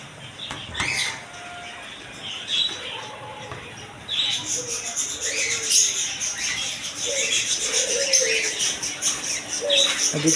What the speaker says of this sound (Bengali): এদিকে আছে জাবা পাখি আর ফুল সেট আছে বাজরিকা পাখি